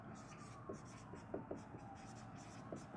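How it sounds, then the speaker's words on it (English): Marker or pen strokes come in short rhythmic scratches and squeaks as notes are written during a physics lecture, faint and close. "So let's start writing some things down."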